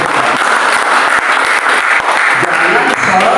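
A church congregation applauds loudly during a worship service, dense close clapping filling the space with a few voices murmuring underneath.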